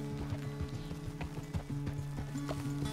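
Horse hooves clip-clop in a steady walking rhythm in Red Dead Redemption 2, close and clear over a low game ambience with a faint sustained tone in the background.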